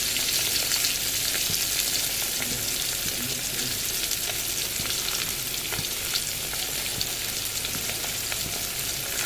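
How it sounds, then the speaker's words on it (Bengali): Fish belly pieces frying in a pan: dense, loud, continuous sizzle and crackle close up, with occasional faint stirring clicks and no talk. "আজকে সব পেটিগুলো নিয়েছি, এইগুলো ভাজা হবে শুধু।"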